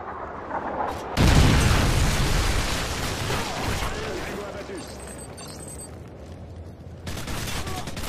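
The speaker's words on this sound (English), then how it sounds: "Friendly Predator missile inbound." Predator missile explosion in the video game Modern Warfare 3: a loud booming blast with a long rumbling roar and crackling debris that slowly fades, then a second burst near the end.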